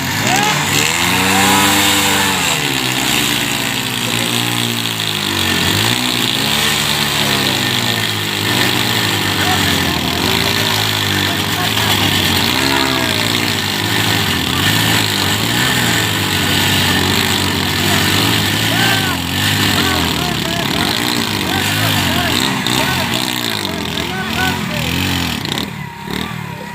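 Dhoom motorcycles run loud and close in a rough idle that keeps rising and falling as the throttle is blipped and revved, with engine noise filling the clip and voices talking over it.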